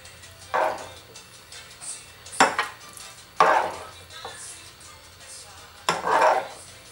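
A spoon scooping stuffed-pepper filling into green, yellow and orange bell peppers, with several distinct clinks and soft thuds spaced about a second apart over quiet background noise.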